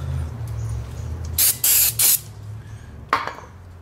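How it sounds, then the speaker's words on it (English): Brake cleaner sprays around the outside of a car's rear brake rotor in three quick hissing bursts and then a fourth short one, loud and close over a low background hum. "I just take a little bit of my brake clean, spray it around the outside"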